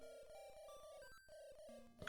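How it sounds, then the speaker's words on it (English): A phone ringing with an incoming call, a faint repeating melodic ringtone pattern heard on its own with no talking. "I am getting a phone call"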